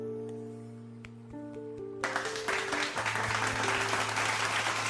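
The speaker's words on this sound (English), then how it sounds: "hold on, we need some claps." Applause from a crowd bursts in and carries on steadily as dense clapping over soft background music, part of an art-themed game scene in a sunny village setting.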